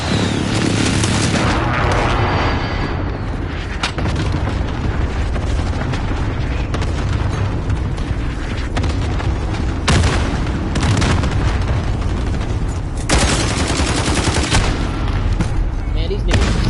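Airstrike explosions in a PS4 first-person shooter, with booming blasts and gunfire keeping the clip loud and dense throughout, several heavy impacts standing out.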